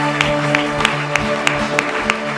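A congregation claps in a steady, evenly spaced rhythm during worship, about eight sharp claps over a sustained tonal background of music or singing, fairly loud and close.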